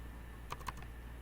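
Two quick, quiet keystrokes on a computer keyboard while entering an AutoCAD block command, close and isolated against a faint steady room hum.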